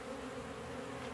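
Honeybees buzz at a small, weakly populated hive, a steady, faint drone with no pauses over a brief moment.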